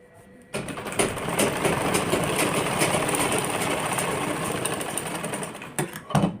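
A sewing machine runs continuously for several seconds while stitching the hip seam of a collared kurti, starting abruptly with a dense, even mechanical whirr and trailing off into a few stuttering stitches at the end.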